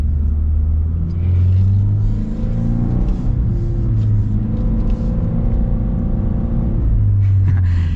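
A 2024 Toyota 86 with an automatic gearbox held in manual mode accelerates, its engine droning loud and steady from inside the cabin as revs climb slowly through long gearing, a brief dip midway, no one talking.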